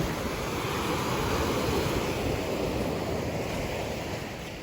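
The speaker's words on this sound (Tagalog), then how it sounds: "Kakaiba ang ano dito. Ang direksyon ng alon." Ocean surf at a seashore, a continuous broad wash of breaking waves with some wind buffeting on the microphone, steady and fairly loud throughout with no voices.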